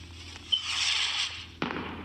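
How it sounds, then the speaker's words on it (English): Fireworks exploding in the Roblox Bloxburg video game during a Fourth of July event, heard as a sharp burst, then a sustained crackling hiss, then a second loud bang near the end. "Fireworks. Let's start with the big one."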